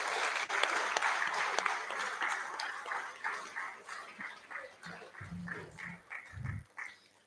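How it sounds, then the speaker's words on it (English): School assembly applause for a student charity group: a large hall of clapping hands, loud at first and gradually thinning and fading, with a few low thumps or voices near the end. "I think that deserves a massive second round of applause for the Cheerful Charities group"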